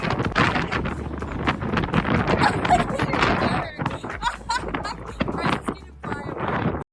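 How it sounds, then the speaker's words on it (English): Strong gusting wind buffets the microphone in a continuous roar among sandstone formations in Arches and Canyonlands National Parks, Moab, with faint voices and scattered knocks underneath. "It's a tad windy."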